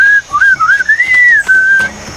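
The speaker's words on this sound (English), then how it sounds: "What is that enchanting, whistling sound?" Within the Sam & Max video game, a single clear whistled melody wanders up and down in pitch for about two seconds, loud and close over faint background sounds.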